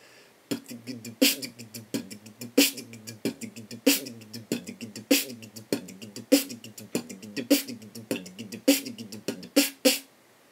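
Beatboxed kick drum and hi-hat at a slow steady groove, a voice imitating the drum kit with low thumps, crisp hissing ticks and a hummed tone underneath.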